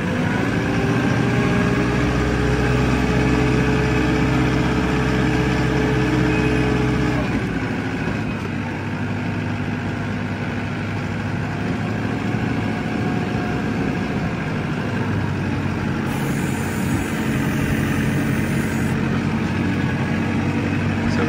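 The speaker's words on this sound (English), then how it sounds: "it's a nice little tractor" Small Massey Ferguson tractor engine running, a steady mid-pitched drone close by that shifts tone partway through and keeps going evenly without talk.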